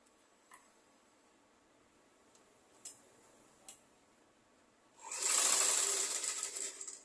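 A sewing machine stitches a seam on a chemise, a few faint ticks and clicks first, then a burst of loud, rapid, steady stitching for the last two seconds.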